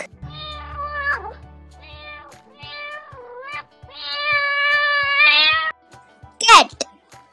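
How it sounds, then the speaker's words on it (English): A cat meows repeatedly and close, with several drawn-out, wavering meows, the longest near the end, followed by a sharp brief squeal. "Cat."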